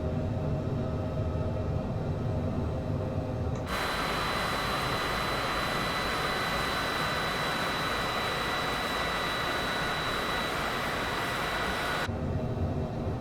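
A Boeing 787 jet engine in a flight simulator game, on approach to land at Tampa North Aero Park, cuts in as a steady, loud broadband roar with a thin high whine. It holds for about eight seconds, then drops away abruptly.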